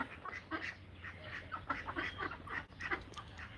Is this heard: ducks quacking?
yes